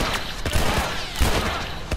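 Gunfire in The Last of Us Remastered: several sharp, close shots crack out in quick succession over a busy game soundscape.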